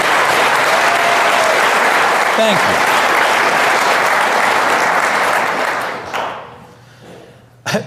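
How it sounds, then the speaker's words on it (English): An audience applauds medical and healthcare workers at a gathering, loud sustained clapping from a large crowd that fades out toward the end, with someone briefly speaking over it. "Everybody else, would you applaud these fine people?"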